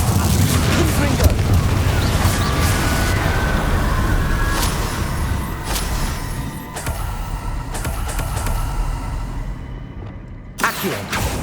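A Confringo fire spell explodes in Hogwarts Legacy gameplay, booming bursts and blasts layered over continuous loud game noise and music, with a few sharp impacts near the end.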